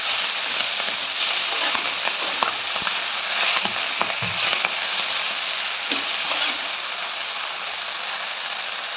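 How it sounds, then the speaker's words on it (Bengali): Malabar spinach leaves are stirred and fried in a pan, giving a loud, constant hissing sizzle up close, dotted with quick clicking scrapes from the spatula. "এই পাতাগুলোকে নাড়াচাড়া করে আরেকটু ভাজা ভাজা করে নেবো।"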